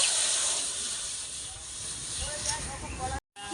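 Water heating in a pot over a lit clay stove gives a steady, fairly loud broadband hiss that holds for about three seconds, then cuts out briefly before resuming.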